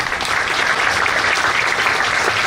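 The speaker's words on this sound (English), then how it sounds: "that deserves a tremendous round of applause, everyone" An audience at a medical awards ceremony gives a sustained round of applause, a thick, even roar of clapping from a large room that keeps a constant level throughout.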